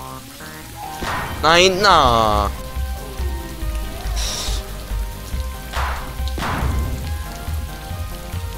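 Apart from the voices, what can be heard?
rain in the video game Electronic Super Joy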